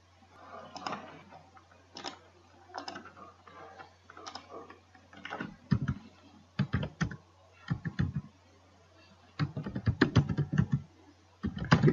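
Fast clattering keystrokes on a computer keyboard come in quick bursts and short runs with pauses between, entering router commands, fairly close and clear with a low steady hum underneath.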